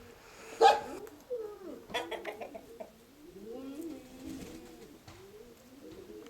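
Pigeons in a Konotop-area loft coo in low, rolling phrases, several soft calls repeating close by with a brief sharper flutter near the start, no voices over them.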